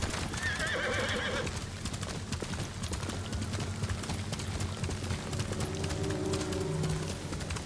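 A horse whinnies loudly at the start while rapid hoofbeats clatter throughout, followed later by another, lower neigh over the galloping rhythm, in the video game Ghost of Tsushima.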